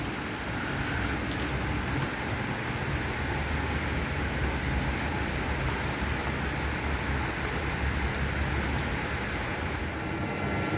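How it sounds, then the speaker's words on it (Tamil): Heavy rain falls in a steady, unbroken hiss, loud and even throughout with no pauses and no voices over it. "செம மழை பெஞ்சிக்கிட்டு இருக்கு இன்னும்."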